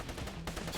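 Gunfire in the action game Wanted: Dead, a burst of shots crackling through a busy, loud game mix with rumbling background sound.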